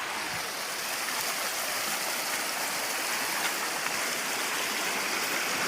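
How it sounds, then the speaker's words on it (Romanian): A mountain stream rushes over boulders in a valley, a continuous broad hiss of flowing water, close and steady, with no talking. "Am trecut gârla pe bolovani."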